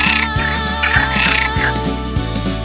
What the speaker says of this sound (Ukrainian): Жаба кумкає ква-ква-ква, мріє заїсти комара.